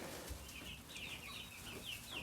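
Chickens cluck softly in short, overlapping calls against faint background noise, a few birds close by with no one talking.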